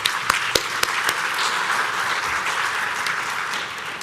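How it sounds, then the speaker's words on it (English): Conference audience applauding panelists at the close of an African automotive investment session, a sustained dense round of clapping with a few sharp nearby claps at the start, no talk. "please give a big round of applause to all of our panelists"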